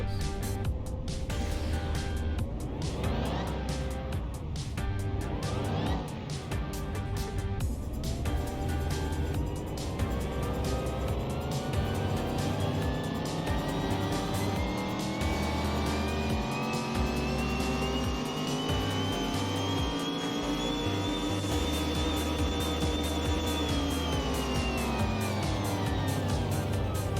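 A 1969 Bolt ATLANT CMS21 engine runs on a dyno. It climbs in a long rising whine to a high peak, then drops back. A steady mechanical drone sits underneath, with no voices.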